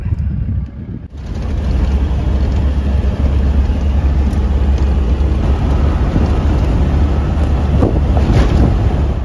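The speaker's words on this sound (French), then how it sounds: "T'as un peu de vent, c'est tip top." Strong, steady wind roars and buffets the microphone throughout on a desert road in Saudi Arabia, a loud continuous rush with no voices.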